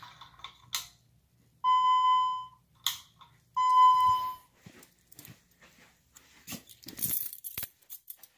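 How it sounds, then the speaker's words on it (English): A fire alarm panel sounds during a system test: two long steady electronic tones, each about a second, separated by short metallic clicks and clatter, with scattered handling noises afterward. "Yeah, that's still an alarm."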